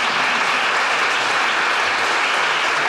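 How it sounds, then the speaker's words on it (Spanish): Dense, even applause from a lecture audience fills the hall, a loud, sustained wash of many hands clapping together without pause. "Un aplauso, por favor."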